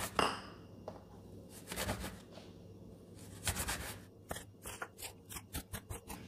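Cinnamon pull-apart bread dough is cut into 3 to 4 cm strips with a run of quiet, close snips that quicken into a rapid, evenly spaced series near the end.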